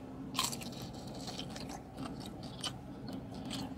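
Someone biting into and chewing whole garlic lemon pepper chicken wings at a restaurant: close, crisp crunches and wet chewing in an irregular rhythm over a faint background, no talk.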